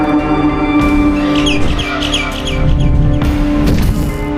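A bird chirps in quick bright bursts over steady droning background sounds and music tones in the mobile horror game Garten of Banban 6.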